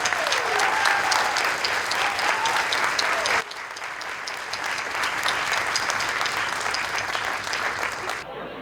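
Sustained applause from an audience at a school district Teacher of the Year awards evening, loud at first, then dropping to a softer steady clapping partway through before cutting off near the end.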